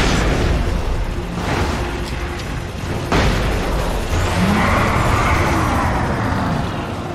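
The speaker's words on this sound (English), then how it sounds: "We're about to flashbang these boys up." A flashbang grenade goes off in the video game Alan Wake. It makes a loud, dense roar of blast noise with a few sharper bursts inside it, and the noise holds steady for the whole stretch.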